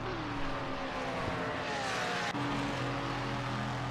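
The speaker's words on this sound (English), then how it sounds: "the cars sound good as they go by" Race cars in the Project Motor Racing video game drive past, steady engine drone with rising revs and a sharp shift midway, fairly loud and uninterrupted by talk.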